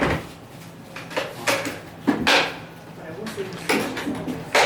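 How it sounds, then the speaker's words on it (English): The metal lock bar being refitted on a pinball machine cabinet, with several sharp clunks and knocks of metal and wood amid shuffling handling noises in a room, with some talk in the background. "Now we're going to put the lock bar back in."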